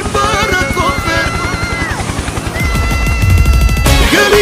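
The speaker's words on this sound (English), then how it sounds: "Helicopter, helicopter!" Rapid chopping rotor thumps of a helicopter drive steadily under bright music, the pounding growing heavier and denser toward the end.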